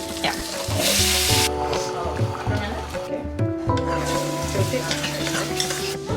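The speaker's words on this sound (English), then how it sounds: "the onions, ginger garlic paste, chili, and then it's gonna go on top of the boiling hot curry" Loud, steady sizzling of onions, ginger garlic paste and chili frying, poured onto boiling hot curry, with stirring clatter and a voice talking over it throughout.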